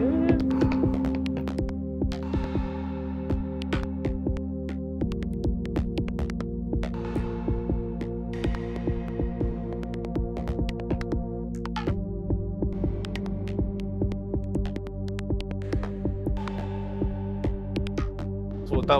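Prophet-5 synthesizer playing a looped jam: sustained layered chord tones that shift at a few points, with a steady pulsing rhythm of repeated notes over them, heard alone with no talking.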